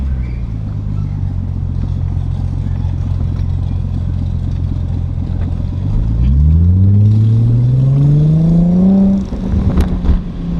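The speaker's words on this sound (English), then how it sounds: "I'll do some first gear rips." A Nissan G35 sedan engine drones steadily, then revs up hard in first gear with a rising pitch, climbing for a few seconds before it cuts off abruptly. The sound is loud and close.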